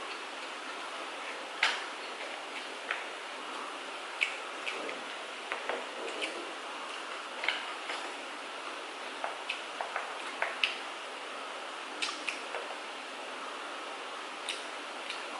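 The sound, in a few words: rain falling outside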